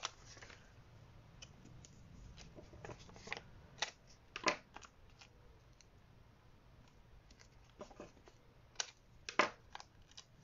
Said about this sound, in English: So if I can dig beneath and find my scissors, you can cut big sections off.